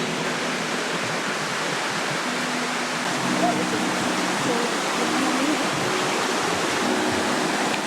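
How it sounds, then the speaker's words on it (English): Clear stream of river water flowing beneath a bridge in a New Zealand forest, a steady, broadband rushing and babbling close by that holds constant throughout. "Looks like we're coming up to a bridge up here with a stream, part of the river."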